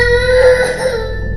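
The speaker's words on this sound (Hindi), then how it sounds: "उसे पीछे से एक बच्चे के रोने की आवाज़ सुनाई दी।" A child cries in a short, high, wavering wail over a low steady hum, close and fairly loud, with no other voices.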